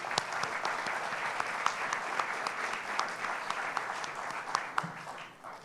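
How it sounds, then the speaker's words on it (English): Sustained audience applause fills a banquet hall at an education awards ceremony in San Diego, a steady dense patter of many hands clapping with a few sharper claps standing out, holding at moderate level and tapering slightly at the end. "Can we please give them a round of applause for their support?"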